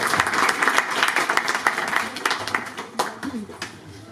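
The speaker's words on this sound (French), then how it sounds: "On l'applaudit s'il vous plaît." An audience at an evening event applauds a newly introduced guest, dense crowd clapping with a few louder individual claps and some murmuring voices mixed in.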